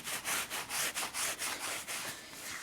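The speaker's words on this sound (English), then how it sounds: "I'm going to keep scrubbing it until it all lathers to a nice white" Rhythmic scrubbing of purple shampoo into a grey pony's mane, a steady back-and-forth rub repeating about every quarter second, close and fairly soft with no talk.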